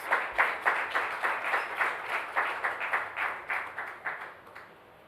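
An audience at a talk on the constitution gives a small round of applause. Rhythmic claps come in waves of pulses that gradually thin out and fade over about five seconds, with no talk over them.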